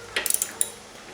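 Small metallic clinks and taps on the spark plug of a Craftsman lawn mower as it is tightened down, a quick cluster of near, light knocks followed by one more after a short pause.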